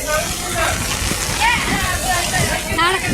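Floodwater sloshing and splashing around a house in Ramanathapuram after heavy rain, a close, continuous watery churn with a voice talking over it throughout.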